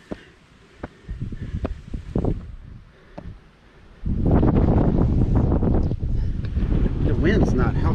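Strong gusty wind buffeting the microphone on Bearfence Mountain hiking trail in Virginia, intermittent rumbling thumps at first, then a loud sustained roar of wind noise, with someone talking under it.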